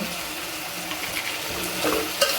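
Drumstick pods sautéing in a pan for a dry Maharashtrian bhaji, giving a steady close sizzle with light stirring scrapes and no talking.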